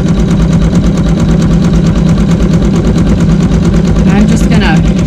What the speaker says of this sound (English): it's going to sew a zigzag stitch to hold it to the battenizer.